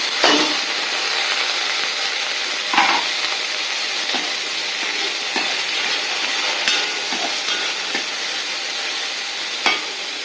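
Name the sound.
curry leaves frying and crackling in oil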